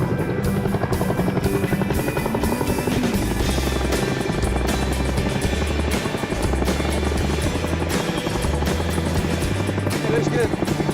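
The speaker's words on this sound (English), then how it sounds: "And another Chinook's ready for the combat zone." A military Chinook helicopter takes off at a war-zone airbase in Afghanistan, loud rapid rotor thumping and engine whine filling the scene continuously, close and heavy throughout.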